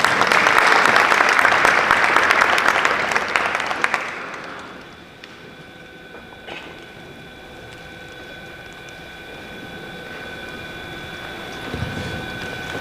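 An audience at a youth entrepreneurship panel applauds loudly for about four seconds, then the clapping dies away into a quiet room with a low steady hum and a few small knocks.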